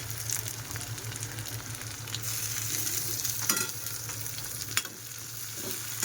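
Tomatoes added to golden fried onions sizzle steadily in a pan, with a constant frying crackle and occasional scraping of a spoon as they are stirred.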